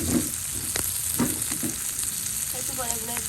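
Hilsa roe and shrimp fry in a pan with a steady close sizzle, broken by a few short scraping stirs.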